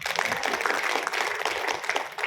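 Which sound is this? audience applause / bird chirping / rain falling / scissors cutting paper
audience applause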